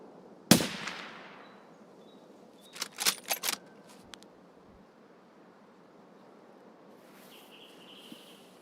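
A single sharp sniper rifle shot rings out in a first-person shooter while targeting a sniper scav, followed a couple of seconds later by a short cluster of clicks and mechanical rattles as the bolt cycles.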